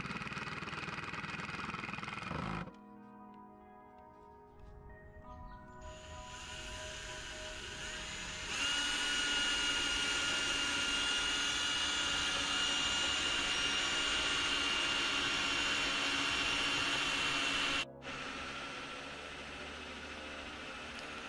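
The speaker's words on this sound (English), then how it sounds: "Drilling through the gate post" A power drill bores through a wooden gate post for a Japanese-style fence, a steady loud whirring motor running for long stretches, with a brief pause near the start and a quieter tail.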